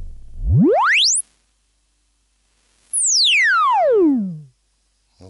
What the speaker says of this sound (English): And here's the sine wave for oscillator 1.